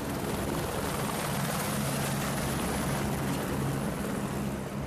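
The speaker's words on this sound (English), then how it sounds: "This helicopter flying between buildings," A helicopter flies between buildings, its dense, continuous rotor and engine roar holding steady and fairly loud throughout, with no voices.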